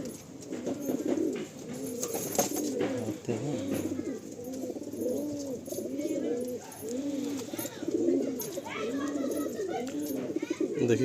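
Male pigeons in a loft coo together in repeated, rising-and-falling throaty phrases, close and steady, forming a continuous chorus with some faint background movement.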